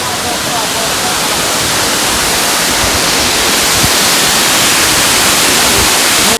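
Bushkill Falls waterfall in Pennsylvania, a dense, even hiss of rushing water that stays loud and constant from start to finish, with no voices over it.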